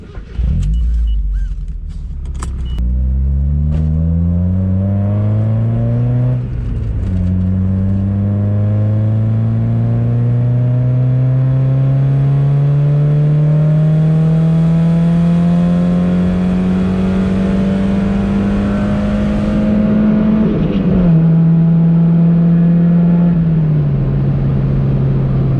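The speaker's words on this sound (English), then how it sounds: "take out that baffle so you guys can hear how it sounds with the baffle removed" A car engine revs hard through a Good-Win Racing RoadsterSport 4 exhaust with the baffle removed, pitch climbing steadily through a long pull, then dropping at a shift and dipping again near the end, loud and close throughout.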